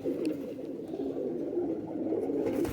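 Pigeons of a prized breed cooing softly and continuously, a low, close, rolling murmur over a quiet background with no talking.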